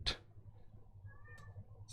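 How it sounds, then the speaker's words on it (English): A Siamese cat lets out a short loud yowl up close, followed by quieter background noise and a faint second cry near the end. "my other one that's a Siamese cat that's always howling away and being super loud"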